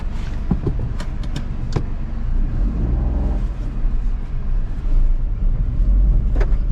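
A Maruti Dzire pulls away, its engine rumbling low and steady with a few light clicks and mechanical knocks early on, then a smooth rising drone as the car starts moving, fairly close and without talk.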